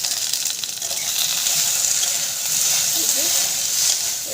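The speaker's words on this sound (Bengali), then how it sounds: "ভেন্ডিটাতে আমি একটু নুন দিয়ে দেবো, একটু হলুদ দিয়ে দেবো। এবার একটু ভালো করে আমি নেড়ে দেবো।" Okra fries in a pan with salt and turmeric while being stirred, a steady close sizzle with faint scraping and shifting underneath.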